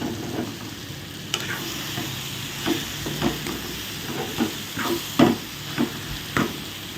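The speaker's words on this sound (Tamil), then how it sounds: "நல்லா இந்த மாதிரி சிம்மில் வச்சு கிளறி விடுங்க" Tomato and brinjal chutney cooks in a pan on a low flame under a soft, steady sizzle. A spoon stirs and scrapes through it in a repeated rhythm of short knocks every half second or so.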